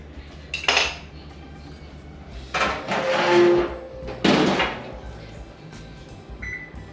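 A baked sourdough sandwich loaf, done at 200 degrees, is taken out of its metal baking pan in a kitchen: a few separate clattering metallic knocks and scrapes, moderately close, with quiet pauses between them.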